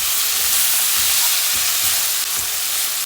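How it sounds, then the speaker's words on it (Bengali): Shrimp with spices sizzling and frying in a pan on a home kitchen stove, a steady, close, crackling hiss that carries unbroken through the whole stretch with no voices over it. "মাছটা একটু কষিয়ে নিচ্ছি"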